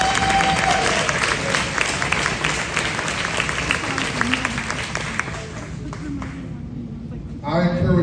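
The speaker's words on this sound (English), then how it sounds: "Give him a round of applause." Dinner-hall audience at a Democratic Party county dinner breaks into a sustained round of applause, dense clapping filling the room for several seconds before fading, with a voice speaking over it near the end.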